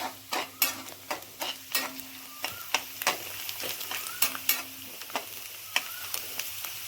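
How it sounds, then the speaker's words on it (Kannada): Onions frying in oil in a pan for a palak mushroom curry, a steady sizzle broken by repeated sharp scraping strokes of stirring, close and fairly loud, with a faint steady hum underneath. "ಈಗ 3ರಿಂದ 4 ನಿಮಿಷ ಎಣ್ಣೆಯಲ್ಲಿ ಈರುಳ್ಳಿ ಫ್ರೈ ಆಗಿದೆ."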